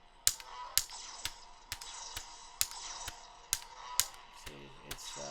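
A Power Saber retractable toy lightsaber fires its clash effect about a dozen times, each a crisp, sharp hit at a steady, evenly spaced rhythm over a faint background hum.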